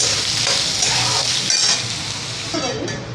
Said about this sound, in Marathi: मोठा गॅस करून मोठ्या गॅसवर आपल्याला आता कांदा छान परतून घ्यायचा आहे